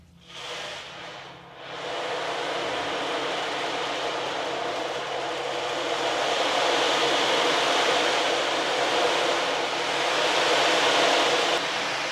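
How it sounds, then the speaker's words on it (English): An ocean drum tilted in slow circles so its beads roll across the head, producing a continuous hissing surf-like wash that swells and ebbs gently over several seconds, close and fairly loud. "This is the ocean drum though."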